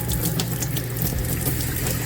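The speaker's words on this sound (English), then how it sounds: "when I run the faucet like this," A household tap runs hard water in a steady close stream, an even splashing flow alone throughout with no talk.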